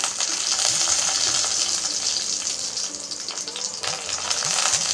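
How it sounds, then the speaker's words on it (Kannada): Mustard seeds, cumin and a cut dried chili frying in hot oil for a no-dal tomato saaru, giving a steady dense crackle and spitting that stays close and even throughout, with scattered small pops. "ಸಾಸಿವೆ ಜೊತೆಗೆ ಸ್ವಲ್ಪ ಜೀರಿಗೆ ಕೂಡ ಹಾಕ್ಕೊಳ್ತಾ ಇದ್ದೇನೆ"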